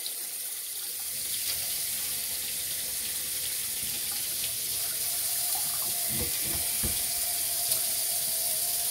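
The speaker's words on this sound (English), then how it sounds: "I let my water get warm, not hot water and not too cold." Warm water runs steadily from a tap into a sink for hair washing, a constant hissing splash close by with occasional soft clunks and no talk.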